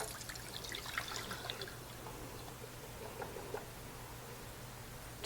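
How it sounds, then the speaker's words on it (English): Canned pineapple chunks and their juice pour into a strainer, making a soft, steady trickle and patter of liquid that is strongest at first and then settles into a quieter, continuous draining. "So I'm just going to pour these into a strainer."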